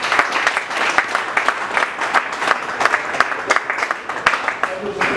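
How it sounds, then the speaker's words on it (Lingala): A crowd applauds loudly for a politician at a local rally, a dense, continuous patter of clapping with sharper individual claps poking through and some voices mixed in. "dont je vous demande d'abord d'applaudir très fortement"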